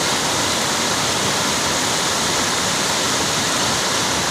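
Floodwater rushes through a stream channel in Konkan monsoon rain, a loud, steady broadband roar of churning water close by, continuous and unbroken with no voices.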